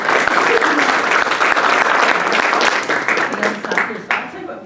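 Audience applause fills a school board of education meeting during a certificate recognition ceremony, a dense, loud burst of clapping that continues steadily before thinning out near the end.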